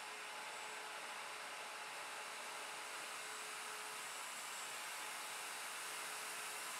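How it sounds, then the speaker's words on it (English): Router cutting a tenon on a Leigh FMT jig in a woodworking shop, a continuous high whining motor drone at steady, even loudness throughout. "Place the router back on the jig and route the rear right tenon."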